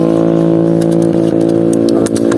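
A motorcycle engine runs steadily nearby, loud and continuous with a slight rise in revs, at a street stall selling es bubur sumsum in Garut.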